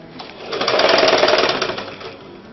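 A sewing machine stitches two cut cross pieces of a sleeveless umbrella frock together, giving one continuous mechanical whir that swells and then fades over a couple of seconds, close and alone with no talk.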